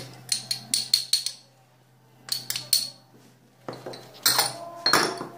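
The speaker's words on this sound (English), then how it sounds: "So she's added the cumin, the cinnamon and black pepper and mixing it." Spoon clinking and scraping against a bowl while cumin, cinnamon and black pepper are mixed into kısır, in three bursts of quick rhythmic metallic taps separated by quiet pauses, close by with no talk.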